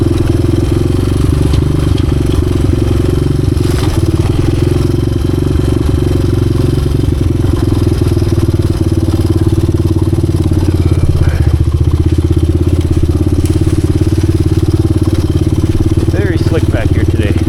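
A 1986 Honda XR200R dirt bike ridden toward a creek, its engine droning steadily and loud throughout with rattling clatter from the ride.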